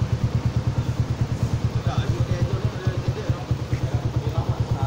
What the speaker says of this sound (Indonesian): Ini sound dia. Bukan kaleng-kaleng motor ni.